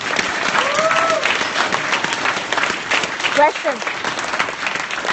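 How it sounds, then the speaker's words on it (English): Audience applause at a Stanford talk and demo session: steady, dense clapping that fills the whole stretch, with a voice speaking briefly over it. "let's give a big round of applause"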